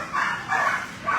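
Dogs yip and bark inside an animal shelter, a few rising bursts of barking spread across a noisy, reverberant background at moderate distance.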